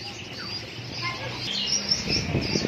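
Small chích ré birds chirp inside a Vietnamese bird shop, a busy mix of thin high tweets and twittering calls at moderate level against a murmuring room background.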